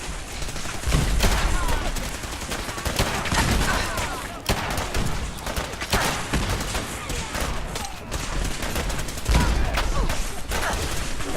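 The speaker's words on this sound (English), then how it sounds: "Hell keeps exploding." Explosions and gunfire in the game Fallout 4 during a battle: loud, dense and continuous bursts of shots with heavy booms punching through, and someone talking over the din.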